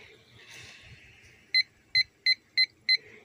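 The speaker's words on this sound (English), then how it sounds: "let's go ahead and set the timer for 5 minutes." A kitchen-style countdown timer going off after five minutes, five short, sharp electronic beeps in a steady rhythm, loud and close, over a quiet room.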